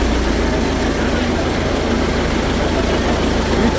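A tractor engine idles at an outdoor tractor market, giving a loud, steady low rumble that holds constant throughout.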